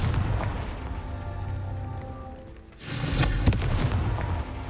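A deep blasting boom from the Confringo spell in Hogwarts Legacy, a sudden loud explosive burst with a rumbling tail, heard alone after a quieter stretch.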